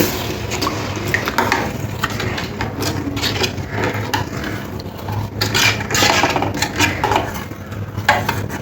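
A spoon stirs milk and water together in a pot on the stove, giving continuous scraping and light clinking against the metal with faint liquid swishing, close and steady throughout.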